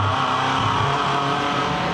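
V8 Ute race cars roar around a circuit in a 2011 V8 Utes round, dense engine noise holding steady and loud throughout with no gaps, several vehicles running close together.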